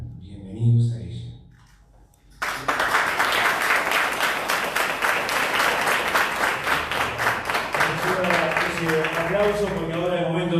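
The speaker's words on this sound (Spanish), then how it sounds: "Aplauso" An audience at a book presentation for "El curioso caso del Cabo Gómez" breaks into loud, sustained applause after a brief spoken introduction. The dense clapping fills the room for several seconds, then fades as a voice resumes speaking.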